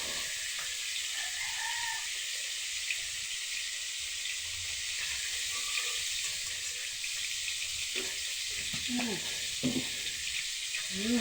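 Steady sizzling hiss of galunggong fish frying fills the clip, with occasional clinks and soft scraping sounds near the pan.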